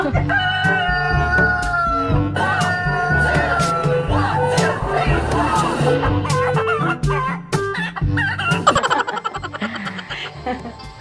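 Chickens clucking and a rooster crowing repeatedly amid busy, layered background sounds, with voices mixed in.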